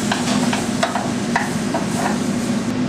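Squash pieces going into a pot and cooking for a soup, a steady sizzle with scattered stirring scrapes and knocks, close and continuous with no talk.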